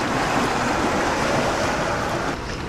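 Rough ocean surf breaking on a beach where clams and sea urchins wash ashore, a steady, loud broadband wash of churning water that eases slightly near the end, with no voices.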